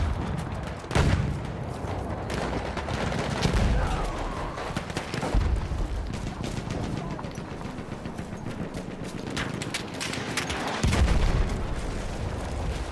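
Booming siege gun artillery and scattered gunfire in a Battlefield 1 battle, with several heavy blasts spaced seconds apart over a constant crackle of distant shooting.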